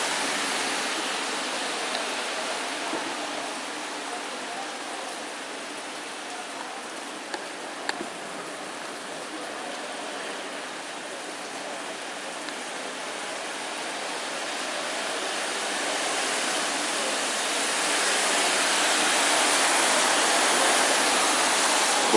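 Heavy daytime downpour falling on a city street, a dense steady hiss of rain that swells slightly louder toward the end, with no voices.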